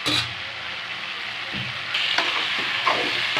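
Brinjal kara kulambu ingredients sautéing in a pan, a continuous close sizzle broken by several scraping, clattering stirs, with no talking.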